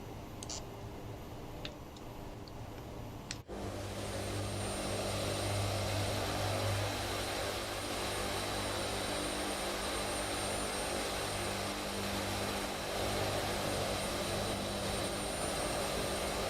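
Engines of a Blue Angels-liveried C-130 Hercules in a flight simulator game drone steadily and loudly after a brief quieter opening, holding a continuous propeller-turbine hum throughout.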